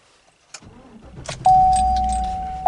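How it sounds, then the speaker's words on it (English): A 2018 Chevy Silverado 1500 with a fuel injector fault, brief key clicks, then an engine cranking and catching into a steady idle, close and fairly loud with a sustained drone. "then we're going to start the engine"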